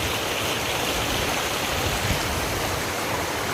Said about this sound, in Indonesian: walaupun sungainya kecil, jadi masih ada aliran seperti ini